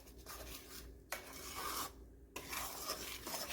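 A spoon stirs roti flour into a spinach and potato mixture in a pan over a low flame, making continuous quiet scraping and rasping strokes with brief pauses between them, and nobody talks.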